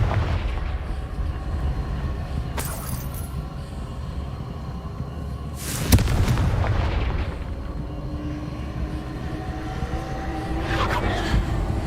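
The Confringo spell in Hogwarts Legacy sets off a sharp blast partway through, heard against a rumbling game background with a few fainter impacts and no talking.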